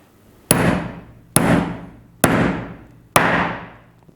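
A hammer taps a key locking insert into place, four evenly spaced sharp metallic strikes each ringing briefly, close and loud.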